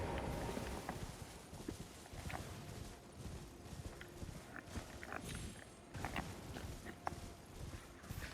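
A horse in Elden Ring clip-clops along at a steady pace, its hoofbeats faint and regular above a soft bed of ambient game noise.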